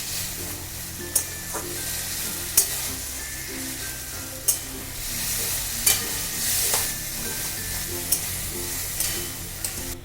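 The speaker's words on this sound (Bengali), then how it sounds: "এটাকে আমি ভালো করে হাই ফ্লেমে দিয়ে কষে নেব" Boiled flat beans stir-fried over a high flame for shim bharta, a steady frying sizzle with sharp spatula knocks against the pan every second or two.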